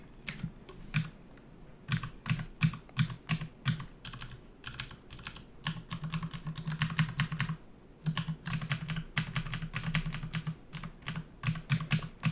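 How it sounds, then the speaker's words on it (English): Keyboard typing during a Dungeon Crawl Stone Soup game: dense bursts of close, crisp key clicks in uneven runs, with brief pauses between flurries. "I am fat fingering the keyboard here and there"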